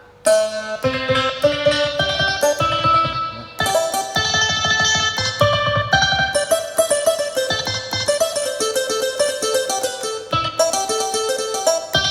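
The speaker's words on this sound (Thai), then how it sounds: "เสียงขิมไทยครับ" A Thai hammered dulcimer (khim) sample on a Yamaha PSR-SX keyboard rings out bright struck-string notes in quick tremolo runs, playing a busy melody with no voices.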